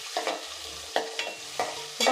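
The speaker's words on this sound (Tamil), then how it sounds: "இப்போ கொஞ்சம் வதங்கட்டும்." Small onions, garlic and curry leaves saute in a pan for a village-style fish curry, a steady hiss of frying broken by several sharp scrapes and clatters of stirring at irregular intervals, close and fairly loud.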